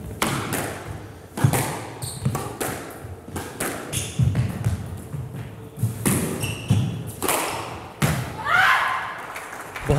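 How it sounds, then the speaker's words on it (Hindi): Squash ball struck repeatedly in a women's quarter-final rally at the Karachi Open, sharp thuds and wall impacts in quick irregular rhythm, including a cross-court shot, with crowd or commentary faintly beneath. "बहुत अच्छी क्रॉस कोर्ट शॉट यहां पे नूर की, जिसके साथ अब उनकी लीड 4 पॉइंट्स पे चली गई"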